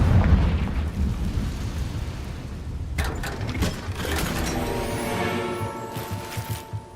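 A Confringo spell detonates in Hogwarts Legacy with a sudden loud crackling blast, a second burst following a few seconds later over a low rumble, with tonal game music ringing underneath.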